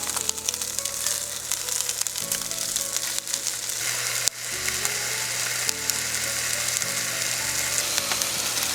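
Soba noodles seasoned with mentsuyu fry on an IH cooker inside a small camper van, giving a loud, steady close sizzle with faint rhythmic scraping and clatter from stirring throughout.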